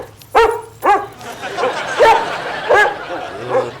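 A dog barks and yips several times in short, sharp bursts at close range, some barks separated by pauses, with faint voices in the background.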